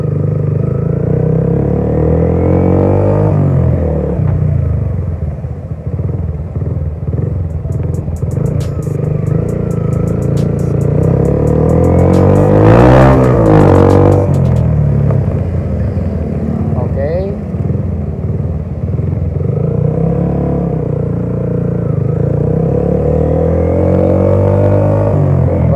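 A Yamaha Y15ZR motorcycle with an aftermarket exhaust revs and pulls away on the road, a steady loud buzzing engine note rising in pitch through the gears, while a rider talks over it.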